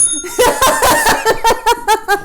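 A small tabletop bell from the Sushi Roll 'n Go dice game rings with bright metallic tones, followed by a quick run of giggling laughter, close and loud.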